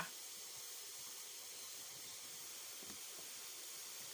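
Steady, quiet hiss of a pot of water with chillies at a boil for Thai jungle curry, continuous and even throughout, with faint bubbling and no voices.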